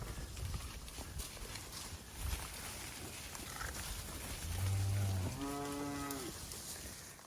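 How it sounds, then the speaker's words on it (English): Cattle on a Colorado summer ranch moo loudly twice in close succession, near and clear over a steady outdoor rumble where horses are also working. "found another group of cows we need to put back in"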